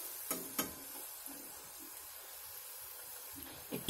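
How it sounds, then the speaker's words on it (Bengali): Chhana sweets deep-frying in oil to a reddish colour give a faint, steady sizzle, with a few soft clicks or stirring taps near the start and end. "আমরা আরেকটু লাল করে ভাজবো"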